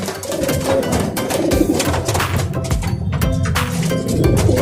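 Pigeons coo continuously in a busy flock, soft throaty calls overlapping with fluttering and rustling nearby.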